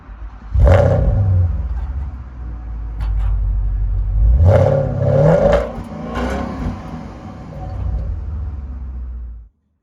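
A Porsche Panamera 4S V8 revs from outside the car: a deep roar swells sharply, settles into a throaty idle, then climbs again in two more strong revs before the rumble fades and cuts out.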